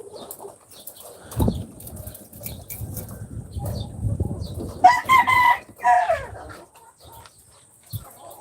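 Chickens on a farm clucking softly nearby, then a rooster lets out a loud crowing call in the middle, with some rustling and wing flaps around it.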